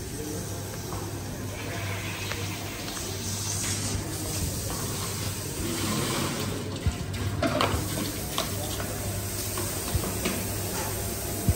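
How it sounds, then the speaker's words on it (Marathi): Water is filled into a dry smoke machine during setup for a fireworks dome show in Worli, Mumbai. It is a steady, hissing rush of running water with a few faint knocks, and no clear talk. "ड्राय स्मोकर मशीनमध्ये पाणी भरायला घेतलं आहे"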